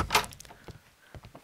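A door opens in the Sherlock Holmes Crimes and Punishments video game: a sharp latch clack at the start, followed by a few faint knocks and creaks, brief and near.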